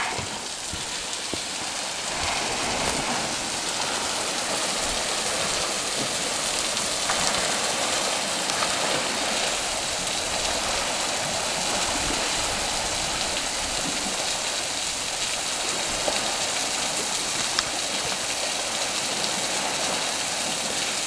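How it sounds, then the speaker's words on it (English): An unfrozen waterfall at Pictured Rocks on Lake Superior gives a steady, unbroken rushing roar of falling water, constant in loudness throughout, with no voices. "that is a waterfall and it's not frozen"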